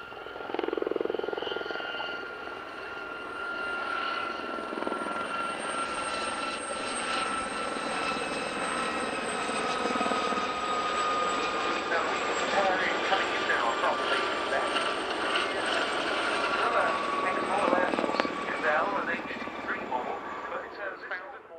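Gazelle helicopters fly a display at the RAF Cosford Air Show, a sustained whirring rotor and turbine drone at middle distance heard beneath a commentator's talk.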